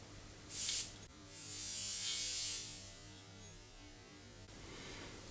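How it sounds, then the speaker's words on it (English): A finely controlled perfume atomizer gives a short hissing spray, then a longer, stronger mist lasting more than a second, with a faint third puff afterward, heard close against a quiet electrical hum. "I will show you the sprayer. Sprayer is very controlled."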